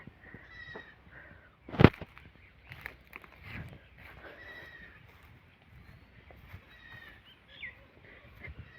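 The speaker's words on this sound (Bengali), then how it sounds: "এই হলো তিনটা ছাগলের বাচ্চা" Three young goat kids bleat on a farm, a few thin high cries scattered through the stretch, with one loud sharp knock midway and low rustling and handling noise underneath.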